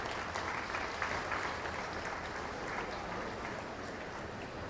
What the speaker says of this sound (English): small applause maybe is good